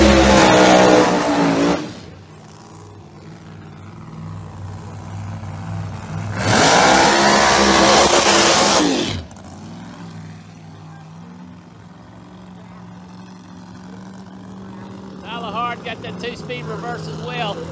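A Pro Mod drag race car with a Noonan 4.9 bore engine, ProCharger, non-lockup and two-speed reverse does a burnout at Northeast Outlaw ProMod qualifying: two loud, roaring engine blasts of roughly two to three seconds each, with commentators talking between them.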